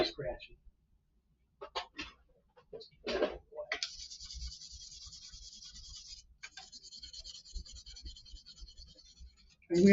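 Fine 2,000 grit sandpaper rubs across the frets of an LP-style guitar in soft, hissing scratchy strokes, quiet and close, with someone talking around the sanding.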